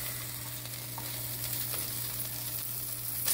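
Vegetables fry in a hot pan that held chuck roast for a Barolo braise, giving a steady close crackling sizzle with a faint low hum beneath, continuous and without talk.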